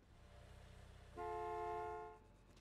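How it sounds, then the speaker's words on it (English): Car horn honking at a truck in the Gas Station Simulator video game, a single sustained toot of about a second over a low ambient game hum, fairly loud and close. "Are you honking at the truck?"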